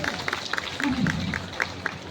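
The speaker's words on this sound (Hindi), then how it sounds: "तो कम से कम ताली बजाओ एक बार मातृशक्ति" A scattered, steady run of hand claps, roughly four per second, rises from the audience at a Balidan Diwas rally speech in Chhindwara, with a voice talking over it.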